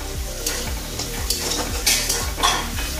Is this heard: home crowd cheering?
no